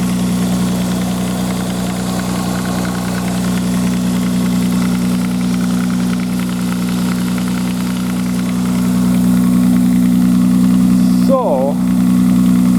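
A 1995 Nissan Maxima engine idles at cold start with a faulty tensioner, giving a steady, loud mechanical drone with a low hum throughout and a brief squeal near the end.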